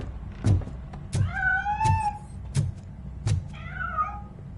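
Cat meowing repeatedly and loudly in a series of drawn-out, bending meows, with sharp knocking thumps between them in an indoor setting.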